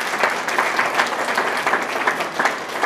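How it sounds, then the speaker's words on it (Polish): Steady applause from an audience at a Christmas carol and nativity group showcase, a dense wash of clapping that holds for about three seconds without a break. "Brawa!"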